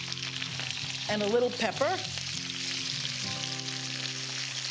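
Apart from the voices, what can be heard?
potatoes frying in a pan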